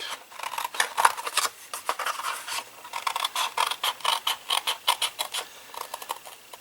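Scissors snip paper along a score line while a spinner box is cut out, a run of crisp, close, rhythmic cuts that speed into quick repeated snips.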